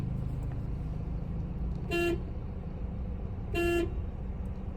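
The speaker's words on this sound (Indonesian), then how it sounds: "Cara penggunaan klakson yang benar adalah menekannya secara singkat, seperti ini." A car horn on an automatic car gives two short honks, a couple of seconds apart, over a steady engine and traffic hum.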